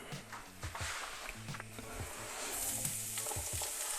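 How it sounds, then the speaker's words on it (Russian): Chopped onion sizzles in a frying pan, a soft steady hiss with occasional stirring scrapes, heard up close and fairly quiet. "Так, лук я уже отправляю в сковородку."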